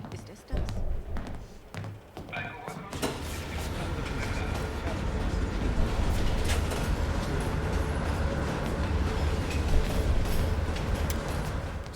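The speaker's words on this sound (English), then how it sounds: "Train's slowing down." A moving train rumbles in the Black Ops Cold War campaign, a low continuous roar with rattling that builds after a few clicks and taps at the start, while a voice talks over it.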